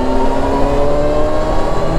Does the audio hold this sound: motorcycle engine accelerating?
yes